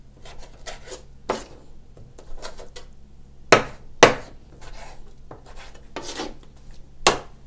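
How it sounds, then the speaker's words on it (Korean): A knife cutting through squid legs on a cutting board, a handful of sharp, irregular chops, some louder thuds among quieter taps, close and alone. "다리는 뭐 그냥 중간에 딱 자르고."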